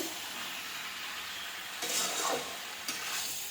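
Mutton pieces sizzle quietly in a pan for Bengali mutton kosha, a steady low fry with two short louder bursts of stirring and scraping near the end.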